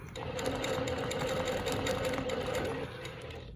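A longarm quilting machine stitches a Baptist fan pattern, a steady fast mechanical whir with a rapid needle chatter, close and continuous, slowing slightly at the very end.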